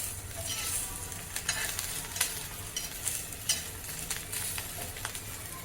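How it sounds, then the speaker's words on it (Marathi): Green chilies roast in a pan over medium gas with a soft, continuous sizzle and a scatter of sharp crackles and pops, close but fairly quiet, with a low hum underneath. "मिरच्या भाजायला पाहिजे व्यवस्थित म्हणून मिडियम गॅस करायचा"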